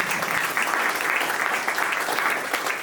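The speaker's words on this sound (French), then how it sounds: "vous pouvez l'applaudir." An audience at a design leadership conference applauds with loud, dense, steady clapping throughout, without voices.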